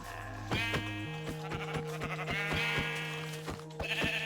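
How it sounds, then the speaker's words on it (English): Sheep in a video game bleat repeatedly in short wavering calls over a steady low electronic hum and rhythmic clicking tones, fairly loud and close. "Sorry sheep, I will have to sacrifice your life."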